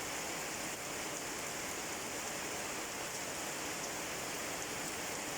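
Steady heavy rain beats against a window, a dense continuous hiss that stays even and close throughout, with no distinct thunder standing out.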